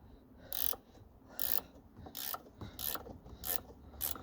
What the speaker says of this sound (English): the spanner I'm using is a ratchet spanner